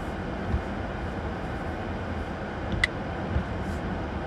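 A train rolls past during a heavy winter snowstorm in Flagstaff, Arizona, making a steady low rumble that holds throughout. A few faint knocks and one brief high squeal rise above it, and no one speaks.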